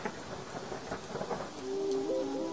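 A thunderstorm sound effect of heavy rain and deep rolling thunder fills the whole stretch, and a soft tonal line rises near the end with no voices.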